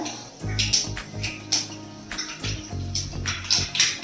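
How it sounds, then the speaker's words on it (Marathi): Mustard seeds splutter in hot oil in a kadhai, a run of sharp irregular pops and crackles over a low background hum, close and fairly loud. "आता मोहरी तडतडली आहे"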